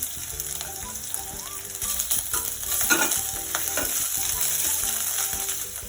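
Curry leaves, dried chillies and ginger paste sizzle steadily in a hot pan for seeme badanekai palya, with a dense continuous crackle, occasional stirring scrapes and a louder burst midway, close and without talk.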